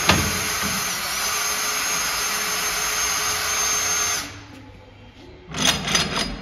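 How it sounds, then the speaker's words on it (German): A cordless drill spins steadily in reverse to unscrew a shock absorber spring compressor, a loud continuous whir lasting about four seconds before stopping, followed by a few short clanks of handling. "Jetzt schrauben wir den Akkuschrauber wieder in die andere Richtung."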